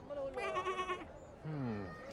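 Sheep bleating in an animated fairytale, wavering harmonic bleats heard twice in close succession, clear and fairly loud with no talk over them.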